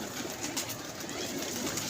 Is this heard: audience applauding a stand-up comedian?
no